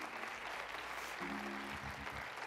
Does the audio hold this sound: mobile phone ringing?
no